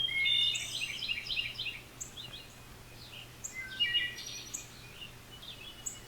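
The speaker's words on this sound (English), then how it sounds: "listening to the birds" Birds chirp and trill in short bursts, several calls overlapping at moderate distance over a quiet, steady background hum.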